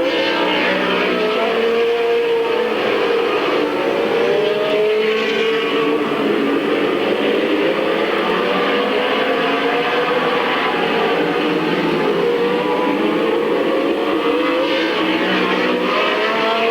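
Race cars roar around Midvale Speedway at the start of a 1996 race. A dense, continuous engine noise fills the whole clip, loud and sustained, with shifting pitch as cars pass.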